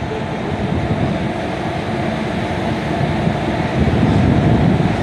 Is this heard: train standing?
yes